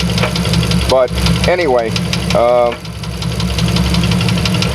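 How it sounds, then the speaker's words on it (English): A 1994 Chevrolet Astro van engine idling with a rough, droning rumble and a slight surge, running continuously beneath a man's nearby speech. "I'm trying to get this engine from not surging"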